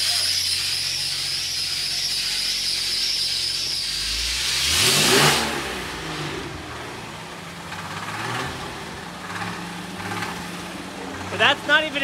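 A Jeep engine idles close and heavy, then revs up in a loud surge with a rough drivetrain fault making it sound bad, before settling back; someone talks over it and a few clanks follow near the end.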